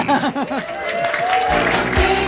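A stand-up comedy audience claps rhythmically for comedian Patrick Monahan, close and loud, with a voice and music cutting in partway through.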